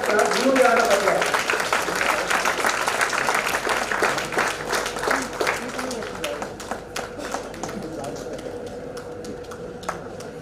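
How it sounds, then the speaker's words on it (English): Round of applause from an audience at an international conference, starting full and dense, then thinning to scattered individual claps, with a faint voice underneath. "Requesting to all please give them a huge round of applause."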